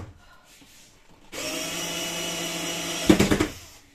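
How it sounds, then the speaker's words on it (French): A power screwdriver drives a screw in at an angle inside a converted truck home. The close whir starts abruptly and runs about two seconds, then ends in a few quick clunks as the screw seats. "Ah, mais bah, faut visser en biais."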